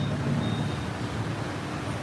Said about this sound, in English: That's why you're hearing all the traffic.